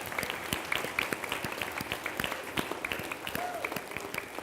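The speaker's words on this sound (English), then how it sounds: "give yourselves a huge round of applause" An audience of staff and children claps in a school hall, a lively burst of many hands with sharp individual claps standing out and some chatter underneath.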